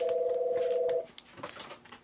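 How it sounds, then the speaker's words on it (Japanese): A telephone rings indoors in a baseball glove workshop, a steady electronic tone for about a second that then stops, followed by faint rustling and handling noises. "電話かかってきちゃったよ、いいとこなのにね"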